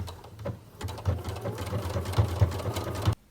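A sewing machine stitches a jersey neckband in short, fast mechanical bursts, a steady whirring rattle that speeds up and pauses briefly before stopping abruptly.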